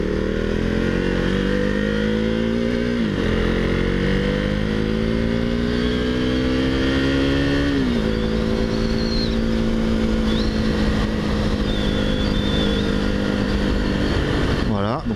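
A KTM Duke 390 motorcycle engine drones steadily while riding, its pitch climbing and dropping through gear changes as the rider speaks over the engine noise.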